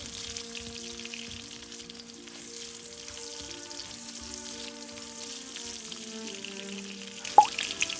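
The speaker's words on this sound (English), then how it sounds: "Add garlic and ginger and fry until aromatic." Garlic and ginger fry in a wok beside pork belly, a low, steady sizzle running throughout with a brief clink near the end.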